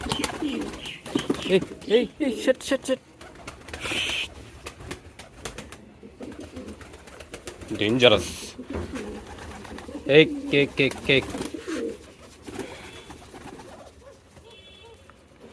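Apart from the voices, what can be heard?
Peshawari pigeons cooing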